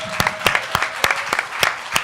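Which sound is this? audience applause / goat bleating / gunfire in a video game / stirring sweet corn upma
audience applause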